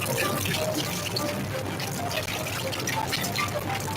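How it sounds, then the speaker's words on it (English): Hands being rinsed under a running tap make a steady splashing, trickling water sound close by, continuous for the whole stretch, with a faint hint of voice in the background. "Then you rinse your hands."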